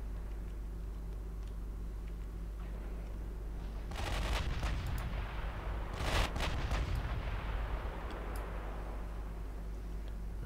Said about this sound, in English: We are firing at 27 kilometers.